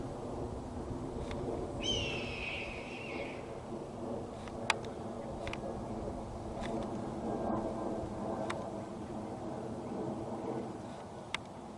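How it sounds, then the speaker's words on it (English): A red-tailed hawk gives a single piercing, descending scream in the distance over a low rumbling outdoor background on Truax Island, Oregon, followed by a few faint clicks. "That is definitely a red-tailed hawk. They have a more piercing call than other raptors."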